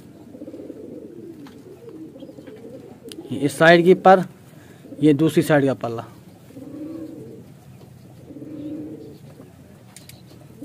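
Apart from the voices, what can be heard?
baby pigeons cooing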